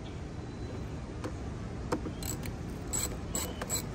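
A socket wrench ratchets loose an 8mm bolt on a hose at the filter of a Dodge Charger or Challenger, giving scattered, quiet ratchet clicks that grow more frequent toward the end over a steady background hiss.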